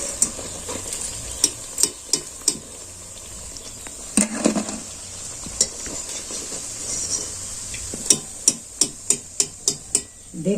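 Semolina sweets fry in hot oil with a soft steady sizzle, punctuated by repeated sharp metallic taps and clinks of a utensil against the pan, close and without talking.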